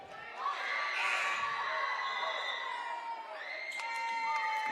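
A crowd of fans at a high school basketball game cheers and shouts loudly, a sustained roar with high whoops and children's yells that swells and holds throughout.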